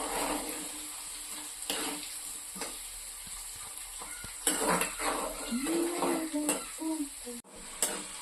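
Ingredients for a mango curry sautéing in a pan, a steady sizzle broken by intermittent scraping strokes of a spoon stirring, with brief clinks of metal, close and moderately loud.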